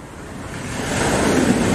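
Ocean surf on the southern coast of Java rolls in as a loud, steady wash of waves that swells slightly, with wind noise and no voices.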